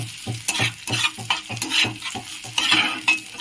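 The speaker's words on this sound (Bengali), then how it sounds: "অল্প একটু মৌরি দিয়ে দিলাম। এটা সবগুলো ভালো করে ভেজে নেব।" Fennel seeds fry in a pan while a spoon stirs and scrapes in a regular rhythm, with crisp close sizzling between the strokes.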